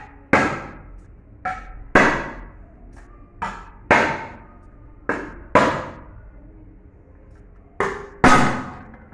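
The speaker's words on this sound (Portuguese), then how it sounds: "eu vou dar uma porradinha com o martelo para ver se abre" A small hammer strikes a metal beer can in a steady series of sharp, ringing taps, about seven blows spaced a second or so apart.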